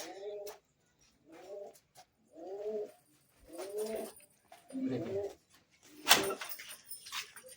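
Pigeons coo in a series of low, throaty bursts, several rolling calls close by with short pauses between them.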